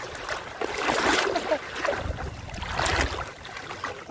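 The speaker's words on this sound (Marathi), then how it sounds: "माझ्या मागे बघा नदी केवढी भरली आहे" A monsoon-swollen river in rural Konkan rushes past in a steady broadband roar, surging in louder waves of churning water close by with no voices.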